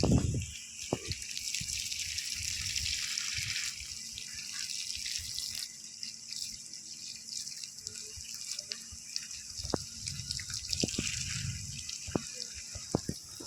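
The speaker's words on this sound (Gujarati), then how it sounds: "અત્યારે આપણે પાણી ચાલુ કરી છે પાછળ" Water runs steadily from a tap in the background, a continuous hiss with occasional clinks and knocks, no talking.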